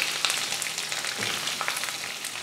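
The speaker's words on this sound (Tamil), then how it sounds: "கொஞ்சம் கருவேப்பிலை இத வதக்கிரலாம் வெங்காயம் வந்து நல்லா வதங்கி வரட்டும்" Onions, green chillies, garlic and curry leaves sautéing in a pan for masala dosa filling give a steady close sizzle and crackle with soft stirring scrapes, no voices.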